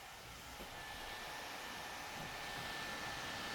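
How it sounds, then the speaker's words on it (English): A neck-worn air conditioner fan runs on its highest speed, speed 3, giving a steady, fairly quiet airy whoosh with a faint thin whine, constant throughout with no talking. "Fan 3 sounds like a little hairdryer."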